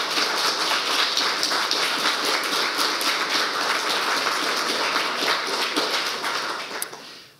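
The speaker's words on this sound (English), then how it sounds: "So can we please give all the candidates a round of applause?" A crowd at a youth council and youth parliament election results event applauds the candidates, dense continuous clapping that stays loud and even before tapering off near the end.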